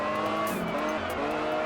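A race car driving in Test Drive Unlimited on PS2, a steady, loud engine drone with a brief tire squeal or gear change partway through, close and continuous.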